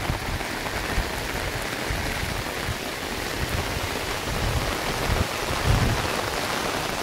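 Steady rain pours down across a rural village and farmland, a dense, even hiss of drops striking surfaces with a low rumbling undertone, continuous and close, no voices.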